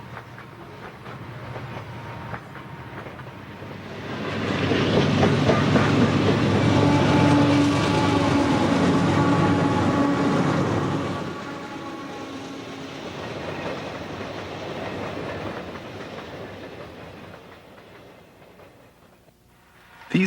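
Eastbound freight train hauled by six AC4400 locomotives on the Tennessee Pass line: a loud, steady rumble of engines and rolling wagons swells, holds for several seconds, then slowly fades away.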